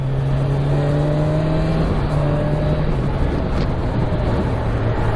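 A 2020 Kawasaki Ninja 1000 SX motorcycle runs at steady speed, its engine droning loud and close with wind roar, the note stepping slightly down at a couple of clutchless quick-shifter gear changes.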